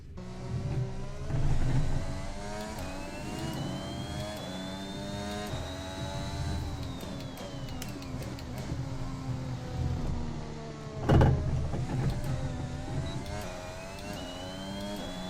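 A Honda Formula 1 engine in the racing game F1 2021 whines and revs steadily at Bahrain, with a whistling pitch rising and falling through gear changes and a brief loud burst near the end.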